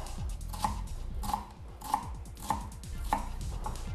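A knife chops an ingredient on a board in a steady rhythm of about five or six sharp, close knocks, with a low background hum and no talking.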